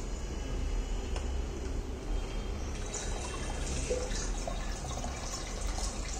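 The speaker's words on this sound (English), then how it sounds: "Slowly the water will be pumping into this." A motor pumps water into a hydroponic container, giving a steady trickling, running-water wash with a constant low hum underneath.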